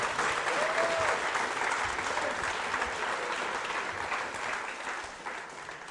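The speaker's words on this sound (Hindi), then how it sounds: "बजाइए और बजाइए तेज।" School quiz show audience keeps up loud, sustained applause, many hands clapping in a dense wash that holds steady and then eases slightly toward the end, with no speech over it.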